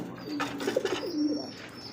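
Bullet eight angel breed pigeons cooing nearby, a few soft low coos repeating over faint background noise, with no talk.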